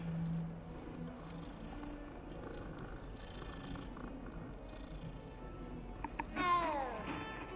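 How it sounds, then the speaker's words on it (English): A cat meows once near the end inside the Hogwarts video game, a short rising call set over a steady ambient game background after a long stretch of low atmosphere. "look at the kitty."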